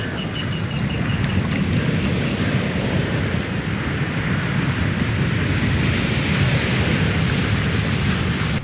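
Storm-driven sea surge at Chavara Karithura sends waves crashing through a broken seawall and rushing about 50 metres inland among casuarina trees; a loud, unbroken roar of churning water fills the whole stretch with no voices.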